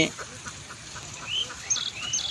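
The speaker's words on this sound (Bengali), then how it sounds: "এই যে দেখেন এখানে কতগুলা হাঁস" A flock of ducks quacks in short, scattered calls over a steady outdoor background, with several birds calling near and far.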